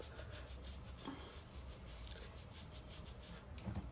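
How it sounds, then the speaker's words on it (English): Cloth sock soaked in alcohol rubbed firmly over the lace of a lace frontal wig, giving a steady close scratchy rubbing texture that continues without a break and has no voices over it. "I just rub the lace really good with the alcohol in the sock."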